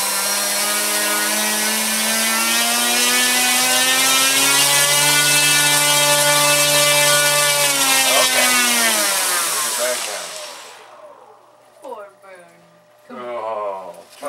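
Electric motor of a Wing Tiger RC trainer airplane whines loudly and steadily for about ten seconds, its pitch wavering slightly, then cuts off; voices follow in the quiet.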